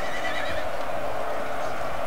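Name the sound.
horses in battle, from video game Napoleon: Total War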